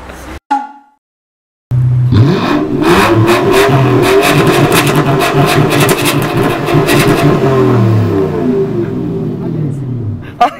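A car fitted with a K-Break exhaust muffler revs hard, a loud, close engine roar that rises and falls in repeated blips for several seconds after a short burst of talk, then fades to idle.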